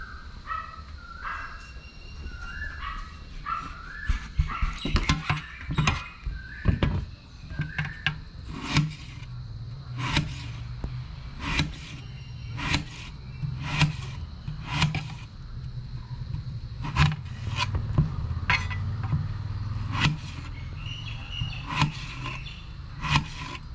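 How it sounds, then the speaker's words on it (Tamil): A knife cuts potatoes on a board, giving a long run of sharp, evenly spaced chops and taps with soft scraping in between, close and clear, while people talk in the background. "இந்த உருளைக்கிழங்கு வெட்டோம்."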